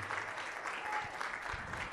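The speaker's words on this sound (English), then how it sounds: "Come on, let's stand all over the building and clap for him." A church congregation claps steadily throughout a Baptist service, a dense and continuous wash of applause filling the building without a pause.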